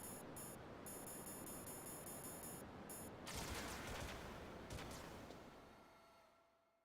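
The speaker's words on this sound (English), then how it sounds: "I'm getting ganged up by the turrets." Turret gunfire in the Metal Gear Solid video game: a dense stretch of rapid shots and noisy bursts with ringing tones, fairly faint and fading out at the end.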